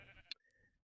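A Minecraft sheep gives a single short bleat, close and quiet, lasting under a second with a brief click near its start.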